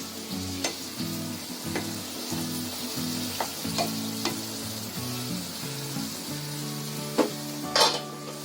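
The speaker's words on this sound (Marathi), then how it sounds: "थोडी याला आहे ना 5 मिनिटं अशी बटर मध्ये शिजवू द्यायची" Mushrooms sizzle in butter in a pan, a constant frying hiss broken by occasional clinks of a spoon stirring against the metal, over soft background music.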